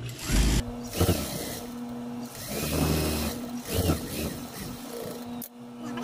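A sewing machine stitches dress fabric for a garment with continuous sleeves and a V-neck. It runs in uneven bursts, starting and stopping, with fabric rustling and handling noises between the runs.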